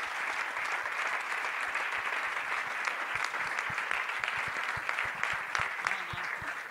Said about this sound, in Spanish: Un fuerte aplauso para Vega Jimeno.